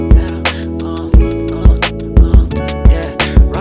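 Recreated hip-hop beat programmed in Pro Tools: loud, punchy kicks and snappy hits in a steady pattern over a melodic backing, with no voices.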